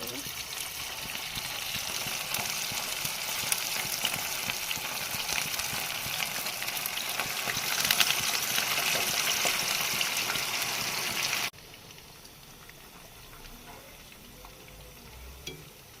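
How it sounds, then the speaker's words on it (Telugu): Marinated chicken pakoda pieces deep fry in hot oil with a dense, steady sizzle and bubbling. The sizzle drops abruptly to a quieter simmer near the end. "ఇప్పుడు మనం నానబెట్టుకున్న చికెన్ని నూనెలో వేసి బాగా ఫ్రై చేయాలి"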